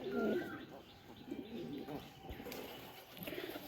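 Pigeons kept in a home loft coo faintly at the start, followed by a low, busy mix of soft murmuring, rustling and a few wing sounds at some distance.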